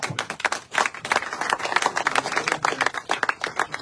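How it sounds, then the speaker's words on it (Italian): Audience applause at a press conference in Palermo, a dense stretch of many hands clapping continuously at moderate loudness, with no voices breaking through. "io voglio rivolgere un applauso di gratitudine ai migranti che sono davvero Palermo."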